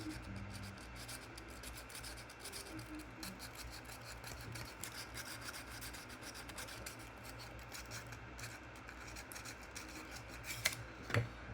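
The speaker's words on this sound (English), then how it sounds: "You could also take some sandpaper and just" A spliced PLA 3D printer filament joint being sanded with sandpaper, producing a faint, continuous close scratchy rubbing with fine rhythmic strokes and a couple of small clicks near the end.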